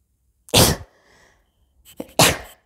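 Two sharp sneezes about a second and a half apart, loud and close, the first followed by a faint breathy sound.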